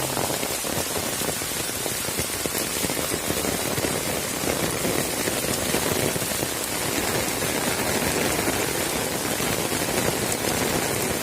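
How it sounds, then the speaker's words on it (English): Heavy rain pours steadily on surfaces around a home, a dense continuous hiss of raindrops at constant loudness throughout, with no voices. "It's really heavy raining, brother."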